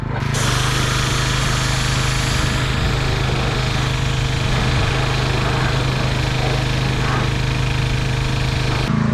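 A pressure washer sprays down a lawn mower on a warm October day, its loud motor drone and hissing jet running continuously and close without a break.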